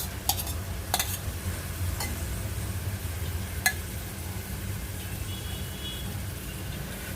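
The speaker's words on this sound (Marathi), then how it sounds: "ही आता आपली भाजी आणि आंबाड चांगली परतून घेतली" Shevla vegetables and wet karandi shrimp are sautéed in a pan, giving a soft steady sizzle broken by a few sharp clinks of a spoon against the pan, with no voices.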